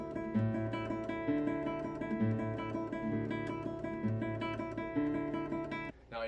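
A classical guitar plays a rapid, even three-finger tremolo over a repeating bass pattern, close and steady for several seconds.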